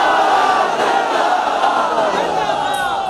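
A large crowd roars and chants a religious slogan together at a rally, a dense, continuous wall of many voices held loud throughout.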